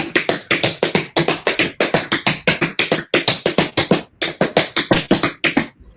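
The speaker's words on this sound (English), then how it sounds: "the Bojangles time step that we were talking about earlier" Sharp tap dance footwork of a Bojangles time step rattles along in repeating rhythmic bursts, dense clusters of metallic clicks with a swinging groove, close up and without speech.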